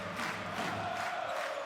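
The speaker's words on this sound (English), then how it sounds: "The crowd are loving it here in the arena." A basketball arena crowd cheers in a brief, steady roar during a Basketball Champions League game between Falco Szombathely and Neptunas Klaipeda. The sound is a full wash of voices at moderate distance, with no single speaker standing out.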